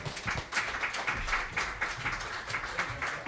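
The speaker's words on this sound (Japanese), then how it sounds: "大きな拍手でお迎えください" Audience applause greeting the main performer at a live music event, a steady wash of many hands clapping throughout, moderately loud and continuous with no talk over it.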